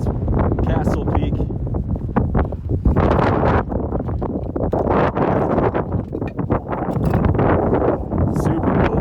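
Strong, cold wind buffets the microphone on a high mountain saddle between Castle Peak and Conundrum Peak, a loud, continuous roar with gusty surges that never lets up.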